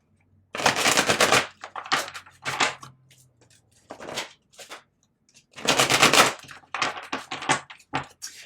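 Bursts of rapid papery riffling from tarot cards being shuffled, close and crisp, repeated several times with short pauses between.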